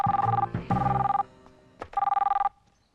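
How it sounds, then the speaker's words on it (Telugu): A telephone bell rings in three bursts of rapid trilling, loud and close, with short pauses between them and a faint click in one gap. "ముందు ఫోన్ వచ్చింది చూడు"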